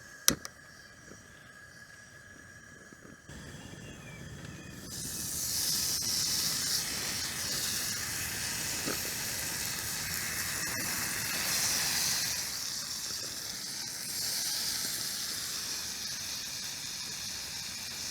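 A Fire Maple Saturn X camping stove burns under a skillet outdoors, a steady, close roaring hiss that swells after a few seconds and then holds evenly, preceded by a sharp click and some quiet handling sounds.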